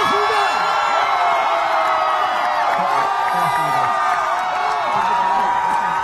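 Crowd at a Korean presidential election rally in Daejeon, loud sustained cheering and shouting with children's voices and whoops, filling the space continuously.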